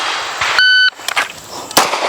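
A single sharp handgun shot cracks out during draw training, shortly after a steady electronic shot-timer beep, loud and close.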